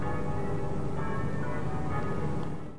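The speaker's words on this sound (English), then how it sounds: "It's lovely to hear the church bells ringing in the distance as well." Bells ringing steadily far off, a soft sustained metallic tolling blending into a constant background hum.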